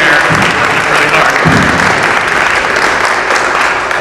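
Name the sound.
audience applause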